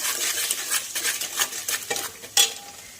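A spoon scrapes and clinks in a pan, stirring sambar masala, turmeric, garam masala and salt together, making soft rhythmic scraping strokes with a sharper metallic tap near the end and no talking.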